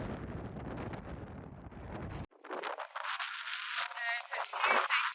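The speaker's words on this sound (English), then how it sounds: "Extremely blustery, so please forgive my audio in the next clip." Strong gusty wind buffets the microphone on a blustery, wet day at a sheep farm during lambing season, a dense roaring rumble that drops out abruptly partway through, then returns as rougher, higher flapping gusts.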